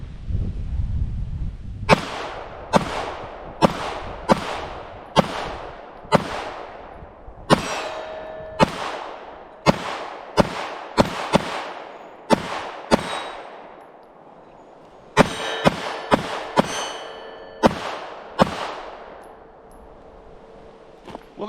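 Pistol firing a full magazine on a shooting range: a string of about twenty sharp, loud shots spaced roughly a second apart, with a short pause midway and a ringing tail after each report.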